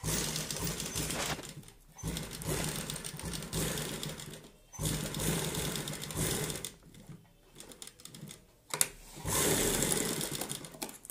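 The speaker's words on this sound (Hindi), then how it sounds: "अब हम यहाँ पे सेंटर पे रख के इसको बीच की सिलाई लगा लेंगे पहले।" Sewing machine stitching a round collar neckline, a continuous rapid mechanical whir running in long stretches with short pauses, close and steady, with no talk.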